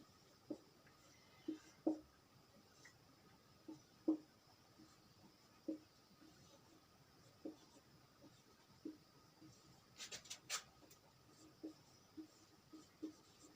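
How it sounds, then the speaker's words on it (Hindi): Pen strokes of someone handwriting the alphabet letter by letter on paper, faint scattered scratches and taps with irregular pauses in a quiet room, no voices. "प्लेस वैल्यू को सबसे पहले हम अल्फ़ाबेट लिखते हैं।"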